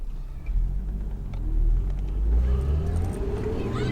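A car pulls away after being shifted into drive, with a low engine rumble that swells as it gets moving, close and steady, while people talk quietly alongside.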